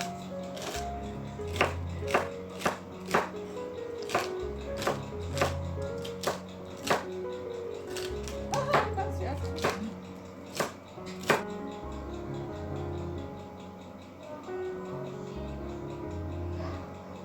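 A knife chops through two celery stalks on a cutting board in a home kitchen, giving a run of sharp, close taps in uneven bursts with short pauses between groups.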